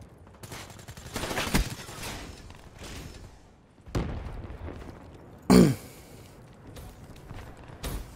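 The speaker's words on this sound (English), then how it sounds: "Oh my god, shotgun." Shotgun blasts in the shooter game Black Ops 3, a few loud, booming shots spaced seconds apart over quieter in-game background noise.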